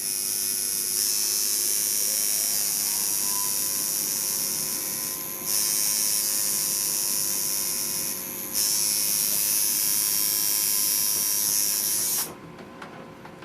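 A tattoo machine buzzes steadily and close while lining a tattoo, with two brief dips in its drone before it cuts off near the end. No one speaks.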